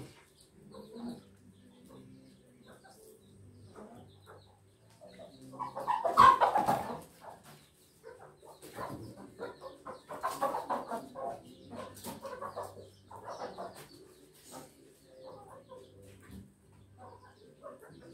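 A free-range hen clucks in short, scattered bursts as it is being caught, fairly faint and close, with a louder flurry of squawks midway and soft rustling between calls.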